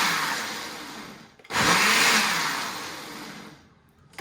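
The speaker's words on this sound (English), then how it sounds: "And I'm just going to quickly blend it" A blender whirs through a purple rice yogurt drink, starting abruptly and running steadily for a couple of seconds at close range before spinning down and stopping.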